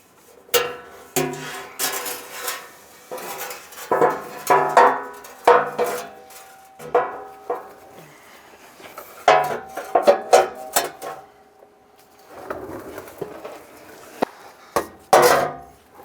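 Steel oil pan being raised into place on a 1992-1996 Ford F-150: scattered metallic knocks, clanks and scrapes, close and moderately loud, with quiet gaps and a faint ringing tone.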